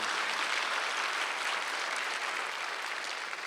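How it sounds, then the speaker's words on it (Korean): A Korean church congregation at Sunday worship claps hard together, a loud, dense, unbroken roar of many hands lasting three and a half seconds with no voice over it. "박수 좀 세게 쳐요"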